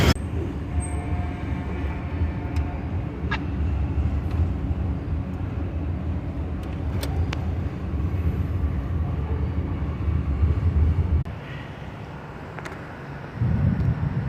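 A BNSF grain freight train rolls past with a steady, dense rumble and rail noise, loud and close for most of the stretch, then eases briefly near the end before swelling again.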